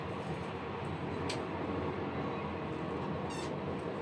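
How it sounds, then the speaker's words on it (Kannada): A train passes close beside the spot, producing a continuous, even rumble and rushing roar that fills the whole stretch at moderate level, with a couple of faint high squeaks on top and no voices. "ಸೊ ಟ್ರೈನ್ ಹೋಗ್ತಾ ಇದೆ, ಪಕ್ಕದಲ್ಲೇ ಇದೆ."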